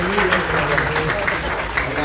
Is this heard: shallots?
no